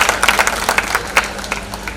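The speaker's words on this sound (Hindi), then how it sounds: "बहुत बढ़िया, तालियां बजाओ" An audience applauds at a Hindi comic poetry show in Karol Bagh, a brief burst of dense, moderately loud clapping from a crowd with no talking.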